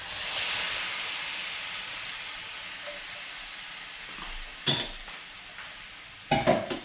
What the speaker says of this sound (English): And cook for 2 to 3 minutes, stirring all the time.